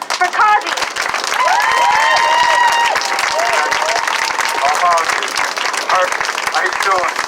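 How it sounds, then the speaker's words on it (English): Crowd at a Boston community gathering breaks into loud, sustained applause and cheering, dense clapping with whoops rising over it, close and full for about seven seconds. "So please give me a big round of applause for Qazi."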